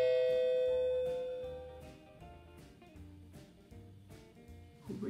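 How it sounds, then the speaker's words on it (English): A doorbell rings indoors with a clear chime tone, then a series of repeated struck tones with a steady rhythm fades gradually over several seconds. "Who rings the doorbell?"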